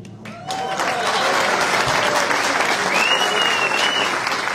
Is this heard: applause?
yes